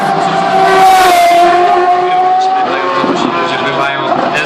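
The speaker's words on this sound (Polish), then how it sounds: "tylko dotknięcie gazu i pani Pemasa stawia bokiem ten bolid." A Formula 1 car revs loudly on a Warsaw street demo, a high engine whine holding then dropping as the tires squeal and the car slides sideways, with a commentator talking over it.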